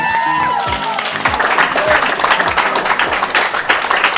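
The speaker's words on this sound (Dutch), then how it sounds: "Mag ik een applaus voor Nick en Simon?" An audience claps for two performers after a sung song, a burst of applause that swells and carries on steadily, with some lingering tonal sound from the end of the music at the start.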